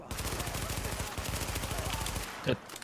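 Rapid automatic gunfire in The Division video game, a dense, loud burst of shots lasting over two seconds, followed by a short voice.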